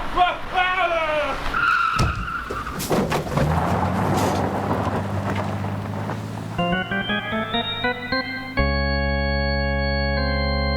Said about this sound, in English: That car coming down the street! Got its lights out! Look out!